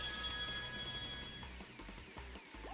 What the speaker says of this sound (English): Sorry about that, that was my phone. That was also loud.